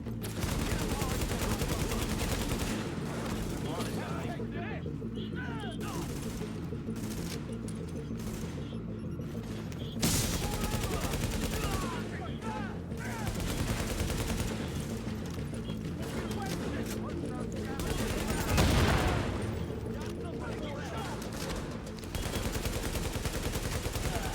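Gunfire in The Division: dense, rapid bursts of automatic rifle fire and booming shots fill the whole stretch, with voices at times under the shooting.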